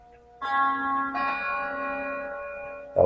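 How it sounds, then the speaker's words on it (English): A household clock chimes, a sustained bell-like tone with rich ringing overtones that swells as a second note joins, then a new strike sounds at the end, fairly quiet in the room. "That was my clock."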